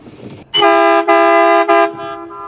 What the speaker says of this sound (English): Got a real loud air horn.